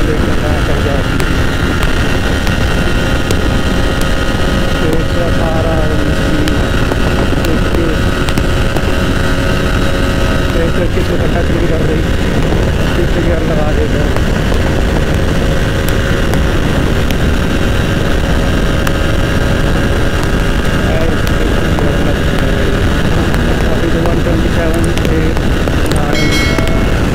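A TVS Apache 160 4V motorcycle accelerates in fourth gear, its engine droning steadily and loudly throughout with heavy wind rush buffeting the microphone.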